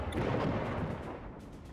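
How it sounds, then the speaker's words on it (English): A torpedo exploding in the submarine game Diluvion, a heavy, muffled underwater boom with a rumbling low-end swell that fades over a second or two, loud and close. "Torpedo."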